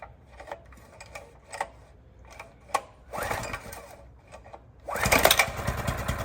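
Small engine on a 1960s vintage mini bike, left sitting over 20 years, sputtering through a few pulls before catching and running rough and loud near the end, close by with no talk.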